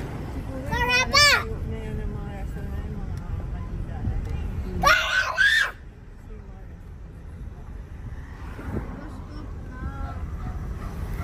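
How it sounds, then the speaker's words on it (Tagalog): Children scream in short, loud, high-pitched bursts, one early and one in the middle, at a family hotel and restaurant in La Union, with chatter and background noise between the cries. "sino yung sumisigaw?"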